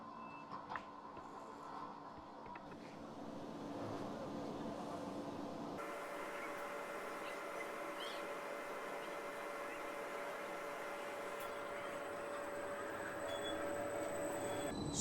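A mountain train rolls toward Felsentor station, a steady rumble and hiss of wheels on rails heard from inside a carriage, with a faint tone and a shift in noise partway through.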